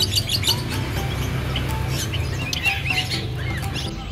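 A young sooty-headed bulbul sings at a bird market in Denpasar, with bright, rapid chirps and warbles close by over a busy background murmur.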